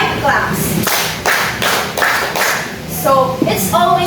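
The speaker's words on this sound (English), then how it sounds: "Let's give Evelyn 5 claps." A classroom of students clapping together in a run of sharp, evenly spaced claps, loud and close, with a few voices speaking toward the end.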